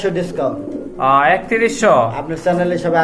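Soft, throaty cooing from bright red pet pigeons kept for sale comes in short repeated phrases, close by and mixed with a voice talking over them.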